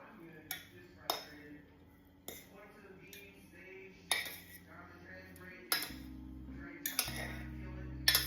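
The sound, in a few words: fluffing up cooked millet by raking it in the pot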